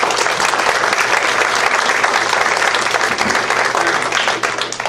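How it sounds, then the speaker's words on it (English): Steady, dense audience applause at a community Citizen of the Month recognition for Jack Stickle, a Rotary member, filling the room evenly and loudly throughout before tapering slightly at the very end. "So let's give Mr. Stickle another round of applause."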